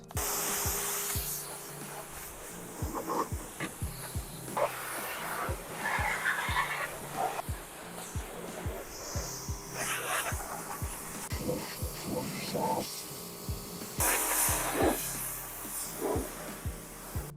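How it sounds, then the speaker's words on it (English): A pressure washer sprays a car's engine compartment with a steady, loud hiss, broken by frequent knocks and thumps as the jet moves around. "We're gonna pressure wash engine compartment."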